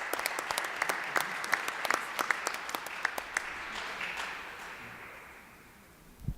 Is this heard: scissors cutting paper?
no